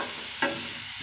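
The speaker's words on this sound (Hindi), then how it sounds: "प्याज के साथ साथ हम आलू को भी फ्राई कर लेंगे।" Potatoes and onions fry together in a pan for a potato and bell pepper sabzi, giving a steady close sizzle with one brief louder stir or scrape partway through.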